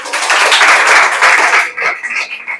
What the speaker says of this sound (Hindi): बिल्कुल ताली बजा दीजिए इसके लिए।